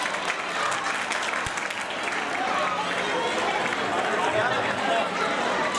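Loud, sustained applause from a large crowd honouring a guest on stage at a community gathering, dense continuous clapping with scattered voices underneath.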